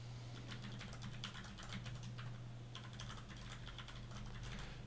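An email address typed on a computer keyboard, steady rapid key clicks running over a constant low electrical hum, faint and without speech.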